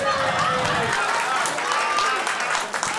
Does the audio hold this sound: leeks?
no